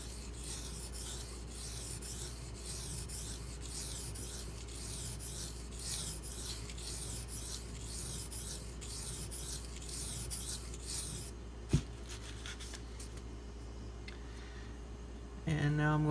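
A Benchmade Mini Crooked River knife drawn across a sharpening stone in full heel-to-tip sweeps, a rhythmic series of about a dozen close, even rasping strokes, then a clack and handling noises.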